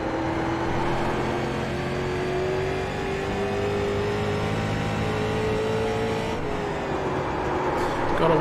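A stock street car engine in the iRacing sim drones steadily and loud throughout, its pitch rising and falling gently as it holds revs, with a brief shift near the end.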